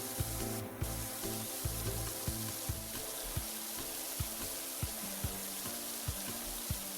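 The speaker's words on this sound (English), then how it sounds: "I wonder if I should change it so that the spray is just mono instead of stereo" Pressure washer spray in the video game PowerWash Simulator 2: a constant, even hiss of water jetting over a repeating pattern of low, steady pulsing tones, with no talking.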